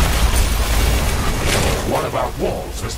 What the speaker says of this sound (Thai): โอ้ระเบิด